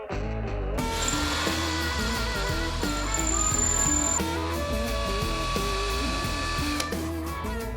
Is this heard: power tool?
yes